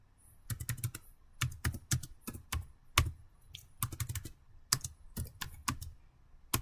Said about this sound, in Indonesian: nanti kita akan ketikkan perintah itu cd etc, lalu enter